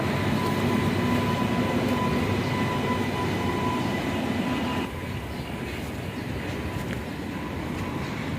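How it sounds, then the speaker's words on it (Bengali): A train rumbles past close by with a steady heavy roar and a faint tonal whine, easing slightly partway through. "সামনের সামনে ট্রেন লাইন ট্রেন আসছে"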